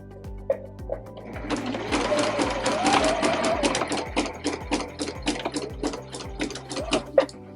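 A sewing machine stitches fabric for a bread bag in a steady burst of rapid, close mechanical ticking, starting after a few slow clicks and running straight on for several seconds before slowing at the end.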